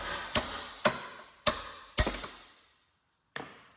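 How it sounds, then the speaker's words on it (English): A hammer strikes a steel tool to drive out a door hinge pin on a VT Commodore Clubsport, five sharp metallic blows with ringing decay, four evenly spaced and a last one after a pause, close and loud. "Sometimes you've got to give them a pretty good belt with a hammer"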